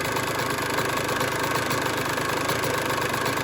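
A two-stroke engine idles after its idle screw and air screw have been adjusted, running with a steady, fast, even putter that carries on at constant loudness close to the microphone, with no talking.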